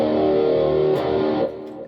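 An electric guitar plays through an MXR Rockman X100 with overdrive and chorus switched on, giving a loud, sustained, shimmering chord that rings out and then drops away.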